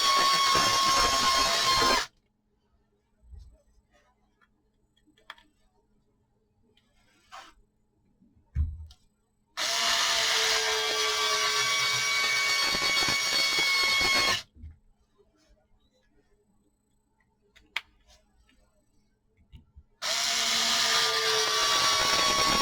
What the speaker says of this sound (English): we're going to take our driver, we're going to drive the screws most of the way in